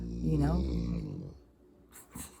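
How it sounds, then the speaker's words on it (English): A long, drawn-out yawn with a deep, breathy voiced tone that trails off, followed by a brief exhale. "That was a big old yawn."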